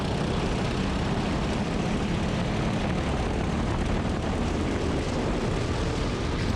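A go-kart engine at full throttle on the NJMP Liberator karting track, a loud, steady, dense roar that holds constant for several seconds with no voices.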